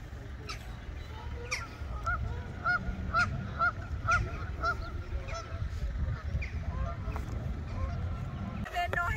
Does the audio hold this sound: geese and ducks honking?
yes